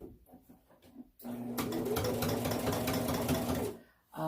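A sewing machine stitches fabric for an Irish dance dress skirt frame, running steadily for a couple of seconds, a fast mechanical whir with a humming tone, starting and stopping abruptly after quiet handling noises.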